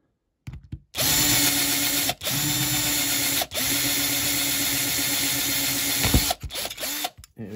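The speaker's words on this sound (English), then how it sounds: "Let's have a look at rivets so they can just be drilled out." A power drill bores out rivets on a Corgi die-cast Chevrolet Caprice Classic model car, a steady high whine sustained for several seconds, broken by a few short pauses and restarts.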